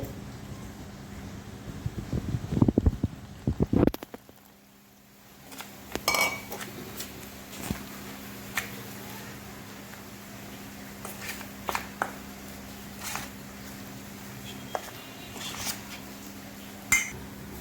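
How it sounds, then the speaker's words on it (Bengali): A spoon clinks and scrapes against a bowl while Kashmiri chili powder spice batter is mixed with water for spiral potatoes. There are a few close, brisk clinks near the start, then only faint scattered taps in a quiet kitchen. "এবার আমি ভালো করে এটা মিশিয়ে নেব জল দিয়ে"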